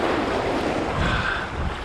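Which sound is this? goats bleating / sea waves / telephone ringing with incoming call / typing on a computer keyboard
sea waves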